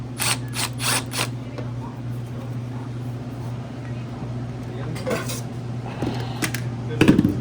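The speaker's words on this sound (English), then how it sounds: "That one I got to get a screwdriver under and lift, and it'll come out." Metallic clicks and scraping taps of a screwdriver working screws loose on an Atosa commercial kitchen unit, close and intermittent over a steady motor hum, with a louder clatter near the end.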